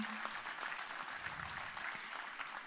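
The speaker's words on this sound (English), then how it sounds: "A huge round of applause and heartily welcome to her." Steady audience applause at a conference welcoming India's finance minister Nirmala Sitharaman, a continuous even wash of many hands clapping, fairly distant and moderate, with no speech over it.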